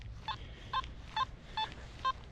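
Nokta Simplex metal detector in Park 2 mode at maximum sensitivity over a buried six-inch gold ring: five short, faint electronic beeps in a steady rhythm over low background hiss.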